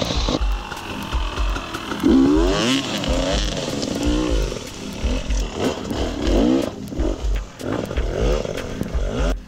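A Scott's 200 enduro dirt bike ridden on a wet, muddy trail over logs, its two-stroke engine revving and bogging in uneven bursts, loud and close throughout with no talk.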